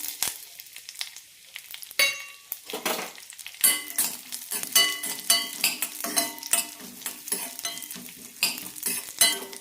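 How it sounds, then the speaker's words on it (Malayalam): Dried coconut (copra) roasting in hot ghee in a pan, with a soft continuous sizzle broken by frequent scraping stirs and clinks of a spoon against the metal, close up and irregular in rhythm. "ഇതൊന്ന് നെയ്യിൽ വറുത്തെടുക്കാം. നല്ല ചുവക്കനെ വറുത്തെടുക്കണം."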